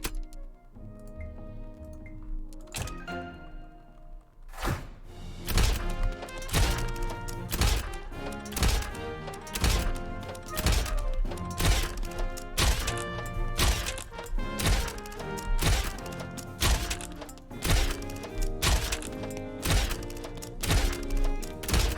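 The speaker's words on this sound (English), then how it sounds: "that is the noise of the up and down blocks" Up-and-down blocks in the game Super Dungeon Designer thunk in a steady, fast rhythm, each hit a sharp clunk with a ringing tone, continuing without pause.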